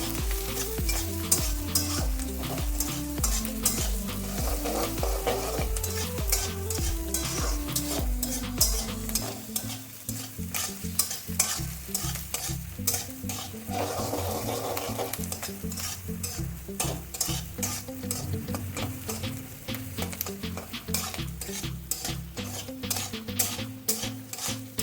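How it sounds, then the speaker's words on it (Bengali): Capsicum and tomato being stirred and fried in a pan for Bengali-style egg fried rice, with steady sizzling and repeated scraping stir strokes throughout. "ক্যাপসিকামটা একটু ভাজা হয়ে যাচ্ছে। টমেটোটা দিয়ে দেবো।"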